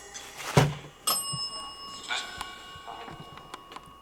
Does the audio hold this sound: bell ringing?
yes